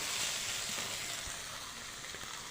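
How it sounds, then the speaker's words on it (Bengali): Okra (bhindi) sizzles as it fries in a pan and gets stirred, a soft, steady crackling hiss with faint scrapes of the spatula and no voices. "তো ভেন্ডি প্রায় ভাজা হয়ে যাচ্ছে, আর 2 থেকে 3 মিনিট নাড়াচাড়া করে দিলে ভেন্ডি ভাজা রেডি"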